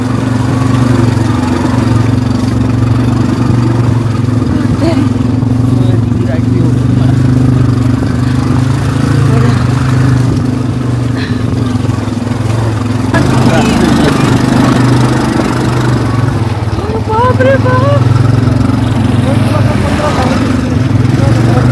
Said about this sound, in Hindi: ये हो रही है हमारी असली ऑफ रोडिंग।